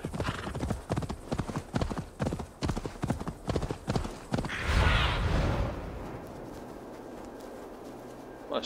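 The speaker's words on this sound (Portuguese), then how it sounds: "Olha, cavalinho." Horse hooves clip-clop at a brisk, steady rhythm for about four seconds in Assassin's Creed Valhalla in the town of Grimsby, then give way to a soft rushing wash and quiet ambience.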